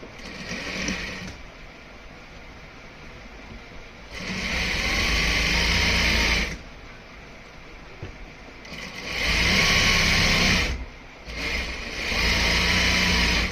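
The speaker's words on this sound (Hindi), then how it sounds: "अब इसी पे हम डबल सिलाई लगाएंगे।" A sewing machine double-stitching the pocket of a ladies' pant, running in four separate bursts of fast whirring stitches with quieter pauses between.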